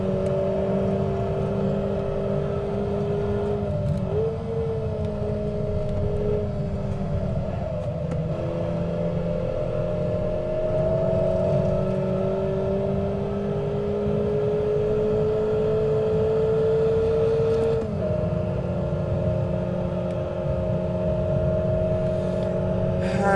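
Mazda Miata engine droning steadily as the car climbs uphill in a racing game, pitch sagging and recovering around gear changes, continuous and close with no talk.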